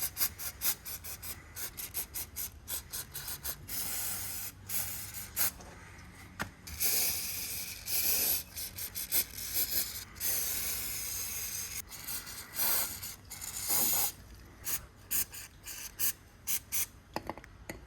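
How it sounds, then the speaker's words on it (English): Short hissing bursts of an aerosol rust-preventive spray repeat in quick, uneven pulses, close by, with scraping and rubbing between sprays, as it is applied to exposed rusty surfaces of a Nissan R34 Skyline. "So now I'm gonna spray this on all the exposed surfaces."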